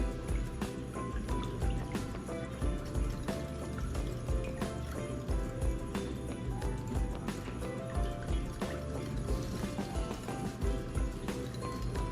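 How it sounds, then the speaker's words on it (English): Canned soup and broth being poured and stirred together for a hobo hotdish with potatoes, a steady wet sloshing and trickling that runs continuously under a busy, cluttered background. "So let's mix up our soup and our broth."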